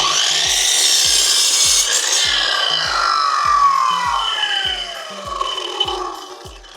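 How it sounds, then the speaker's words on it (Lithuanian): A hand saw cuts through wood in steady back-and-forth strokes, a regular rasping rhythm close by, about a dozen strokes. "Lygiai ir pjaunam."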